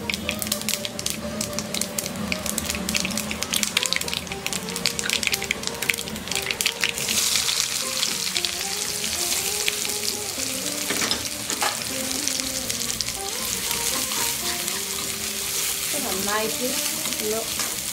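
Chopped shallots frying in hot oil for a Kerala wheat and chickpea puzhukku, a dense continuous sizzle and spatter heard up close under background music, with a brief spoken phrase.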